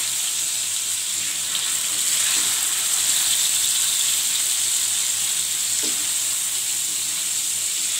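Yogurt being mixed into sizzling kaleji masala on a tawa: a steady, loud hiss of frying, close and unbroken, with faint occasional stirring scrapes beneath.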